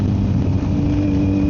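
A Kawasaki Z900 motorcycle fitted with a full M4 exhaust and an ECU flash tune drones with a loud, steady engine note up close, holding a constant rumble without talk.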